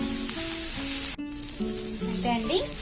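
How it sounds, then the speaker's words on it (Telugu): Curry leaves and spices frying in a hot pan give a steady sizzle with a brief scrape partway through, and faint melodic tones sit underneath. "3 minutes ఫ్రై చేసేస్తున్నాము."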